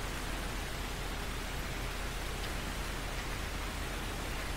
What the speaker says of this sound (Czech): začíná nám trošku pršet